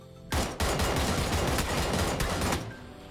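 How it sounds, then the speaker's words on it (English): QBU DMR rifle in PUBG firing rapid shots, a dense burst of loud close gunfire lasting a couple of seconds with individual cracks blending into a continuous volley, no voices. "When shooting the QBU while standing, you should be a bit careful not to click too quickly due to the high recoil."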